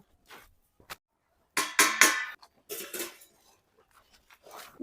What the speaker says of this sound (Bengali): 5 মিনিট হয়ে গেছে, এবার আমরা ঢাকাটা খুলে নেব।